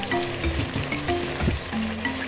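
Tomatoes stirred and frying in a pot for village-style jollof spaghetti, a steady close sizzle with soft scraping and knocking of the spoon, and no talking.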